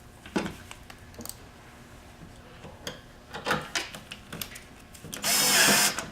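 A power tool drives the last screw home on a camping RV fuse assembly, a short loud burst of motor whine near the end after scattered clicks and handling taps of the hardware.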